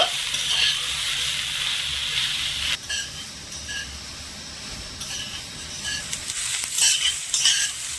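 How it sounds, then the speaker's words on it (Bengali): Jackfruit pieces fry in a pan for vegetarian jackfruit chops, giving a constant crackling sizzle broken by occasional utensil scrapes and clinks as they are stirred, close and fairly loud. "একটু সময় নিয়ে ভালো করে এসবটা ভেজে নেব"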